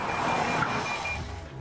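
Electronic Lexus car safety warning beeps sound over a steady background of road and engine noise.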